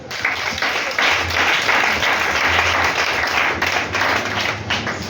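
A church congregation applauds in a dense, steady wash of clapping that fills the room for several seconds, with a faint voice mixed underneath.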